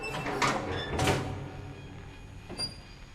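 A train rushes past in the game What Remains of Edith Finch: a broad, rumbling roar with a few heavy swells, close and steady, with no voices over it.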